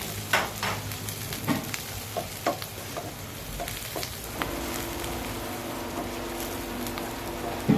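Garlic, ginger and onion leeks fry in a hot pan, a steady close sizzle with scraping stirring clicks scattered through it, the frying hiss thickening toward the end.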